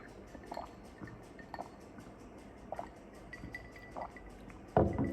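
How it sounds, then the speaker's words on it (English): Water pouring and dripping into a glass of Gold Label whiskey, several short splashy trickles spaced a second or so apart, then a louder splash at the end, close up with no talking. "I poured a little too much water"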